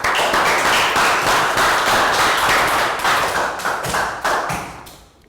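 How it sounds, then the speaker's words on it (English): Year 3 students in a classroom clap together in a loud, dense round of applause that holds steady for several seconds, then thins and fades out at the end. "Yes, excellent guys, rounds of applause."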